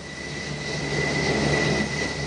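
A jet aircraft approaches an aircraft carrier deck, its engines a steady loud roar with a sustained whine, holding even and close throughout with no voices.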